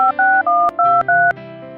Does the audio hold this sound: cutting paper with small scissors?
no